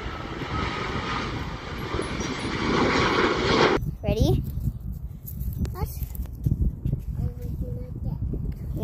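A fixed-wing airplane roars past at Honolulu International Airport, loud and close for the first few seconds before cutting off sharply, leaving footsteps and people talking nearby.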